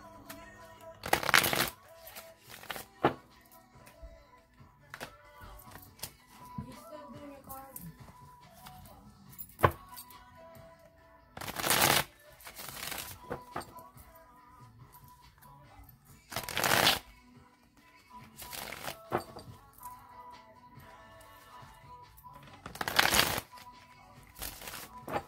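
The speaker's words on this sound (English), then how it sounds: "Okay, Leos, I'm going to shuffle it three more times." Tarot cards are shuffled again and again, with about five crisp riffling bursts spread at irregular intervals and soft card handling and rustling filling the quieter stretches between.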